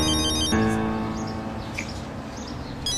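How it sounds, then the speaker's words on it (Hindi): A mobile phone ringtone plays in a home drama scene, a bright synthetic melody that cuts in sharply after a brief earlier tone. Light chirpy electronic notes follow over room noise, close by. "देखो, डेनिस का फोन आया है।"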